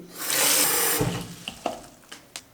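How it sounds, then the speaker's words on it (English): Water pours into a container to fill it with 2 liters for a robotics class machine, a loud steady rush that gives way to a few splashes and drips. "Then we fill this up with water. I'll fill up 2 liters right now, which is about half capacity."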